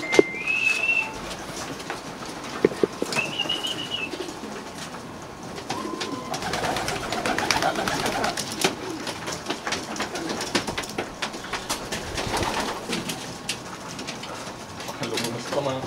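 Racing pigeons coo steadily through the clip at a loft after a hard race's final lap, with a few sharper calls early on and faint rustling and voices in the background.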